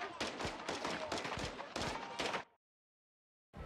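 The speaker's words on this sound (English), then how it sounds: "We're taking fire." Gunfire rattles in Call of Duty Modern Warfare 2, a dense burst of rapid automatic shots for about two and a half seconds, then sudden silence before firing resumes at the very end.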